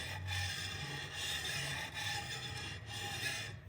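Steel chisel rocked back and forth on a Tormek wet sharpening jig, honing a razor edge on a slick: a steady, close grinding rasp in repeated strokes, rising and easing roughly every second, with no talk.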